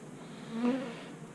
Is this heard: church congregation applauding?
no